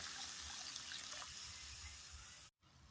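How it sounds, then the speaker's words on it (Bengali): A small amount of water is poured onto papaya in a cooking pan, giving a steady close trickle and splash that runs for over two seconds and then cuts off abruptly. "অল্প পরিমাণে জল দিয়ে দেব।"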